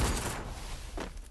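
Automatic P90 gunfire in a shooting video game: a dense burst of shots at the start and a second shorter burst about a second later, loud and close.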